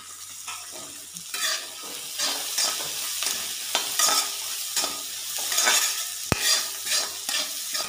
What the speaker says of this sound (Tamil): வெங்காயம் நல்லா வதக்க வேணும்.